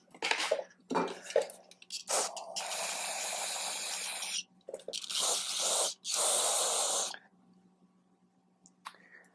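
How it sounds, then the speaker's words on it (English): Aerosol cleaner hisses in long, loud bursts onto a Stihl trimmer carburetor, with a brush scrubbing, metallic clinks and dripping between sprays, then a near-quiet stretch before a short final spritz. "The more I spray and scrub, the more comes out."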